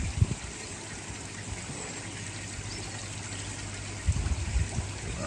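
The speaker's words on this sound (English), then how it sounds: "That's added quite a few more gallons to the pond, really, filling that up" Water trickles and dribbles steadily into a garden pond as it is filled during a vegetable filter build, a continuous wash of flow with a low hum beneath and a few louder splashy bursts near the start and end.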